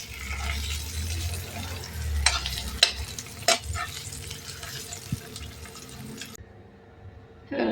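Bitter gourd frying in oil in a pan, a steady close sizzle broken by a few sharp clinks and scrapes of a utensil against the pan, with a low rumble early on before the sound cuts off near the end.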